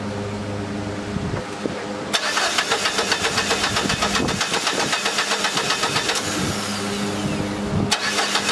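A Dodge SRT-4 engine cranks over repeatedly without firing because no fuel reaches the lines, a steady rapid starter-motor chug that runs close and loud for several seconds.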